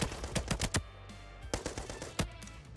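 Rapid automatic fire from a video game rifle with iron sights: a fast burst of close, loud shots, then a pause and a few more spaced single shots, with no talking.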